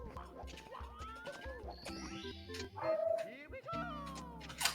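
A dog barks and yips in short bursts amid a busy, cluttered mix of video game sounds and voices, with a whimpering note and a sudden crash-like noise.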